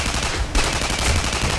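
Rapid gunfire in the Tribes Ascend video game, a loud dense burst of crackling shots over a continuous noisy game backdrop, with a sharper hit partway through.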